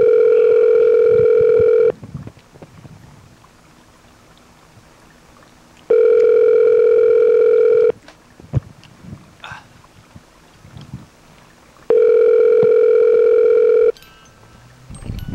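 Telephone dial tone sounding loud and steady in three two-second bursts, separated by quieter stretches of faint clicks and handling noise.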